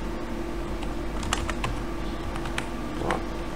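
Computer keyboard typing, a string of light, irregular key clicks over a steady background hum.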